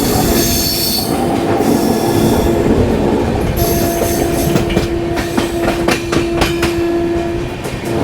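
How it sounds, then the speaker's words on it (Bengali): A passenger train on the Visakhapatnam–Araku Valley line rumbles toward a tunnel, with steady wheel noise, a sustained squeal of wheels on rail and sharp rhythmic clacks from the track, loud and close. "আমাদের ট্রেন প্রায় টানেলের কাছে চলে এসছে"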